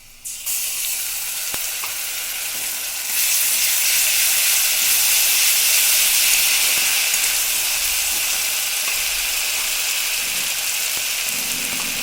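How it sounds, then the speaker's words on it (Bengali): Dried chilies, green chilies, onion, garlic and spice paste hit hot oil in a kitchen pan, bursting into a loud, steady sizzle that swells after a few seconds and keeps hissing evenly, with no voices. "শুকনো লঙ্কা, কাঁচা লঙ্কা, পেঁয়াজ, রসুন আর তো মশলাটা এবার দিয়ে দিচ্ছি।"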